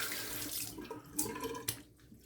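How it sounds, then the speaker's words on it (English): Water running from a bathroom sink tap for a cold rinse after a wet shave, a steady close splashing hiss with a few louder splashes as hands or a face meet the stream. "Cold water rinse."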